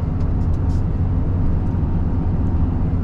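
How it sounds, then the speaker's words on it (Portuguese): A truck's engine brake holds back the vehicle during a downshift, producing a loud, steady, low, dense rumble that fills the whole stretch without a break and with no talk over it. "Ó, freio motor, já vou voltar mais uma marcha"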